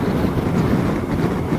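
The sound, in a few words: wind blowing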